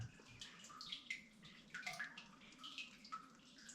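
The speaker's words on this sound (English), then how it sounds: "You can hear the water in it." Water trickling and splashing somewhere inside an abandoned lead mine shaft, a faint, continuous hollow gurgle with small irregular drips and echoing plinks.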